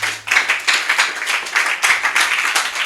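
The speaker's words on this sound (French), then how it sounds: "Acclamons le Seigneur si tu comprends." A church congregation claps and applauds steadily in a dense, lively wash of hands, loud and close throughout.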